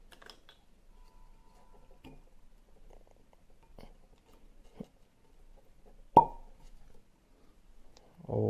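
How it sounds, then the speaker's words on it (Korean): A cork pulled from a freshly opened bottle of Glen Scotia Victoriana cask-strength Campbeltown whisky gives one sharp, bright pop near the middle, with small handling taps and clicks around it in a quiet room. "이 제품 코르크가 되게 밀봉이 잘 되어 있어서 처음 딸 때 소리가 되게 경쾌하게 잘 났습니다."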